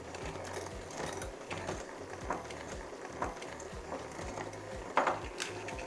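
Hand mixer creaming butter and brown sugar in a bowl for cookie dough, a steady quiet motor whir with faint rhythmic clicks and scraping against the bowl.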